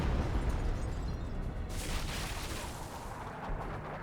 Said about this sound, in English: Those artillery shots seem a little bit too well placed against the pile of camouflage units there.